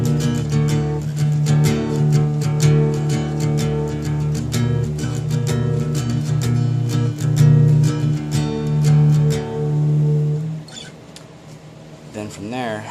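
An acoustic guitar plays a song as a steady run of picked notes over ringing chords, close and clear. It thins out near the end.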